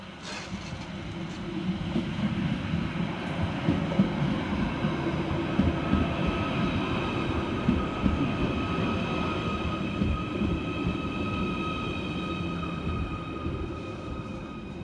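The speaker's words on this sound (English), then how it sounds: "Arriving next into the station is 777-010, with the 10:45 Merseyrail service from Ormskirk through to Hunts Cross." A Merseyrail Class 777 electric train pulls into Maghull North station with a steady, rumbling roll and faint wheel squeal. It stays loud and even for about fifteen seconds.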